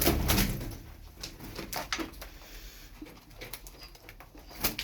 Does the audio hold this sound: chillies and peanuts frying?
no